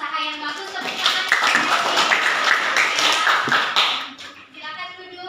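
Classroom applause from students, a dense burst of hand clapping that builds, holds for several seconds, then thins out, with some voices mixed in.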